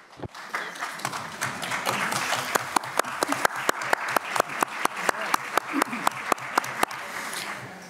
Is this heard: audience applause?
yes